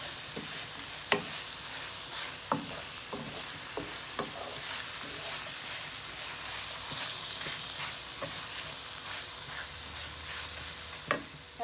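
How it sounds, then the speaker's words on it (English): Chorizo with oregano stirred in a frying pan, a steady soft sizzle with a spoon knocking against the pan at irregular intervals, fairly quiet and close, no talking. "Give it a good stir."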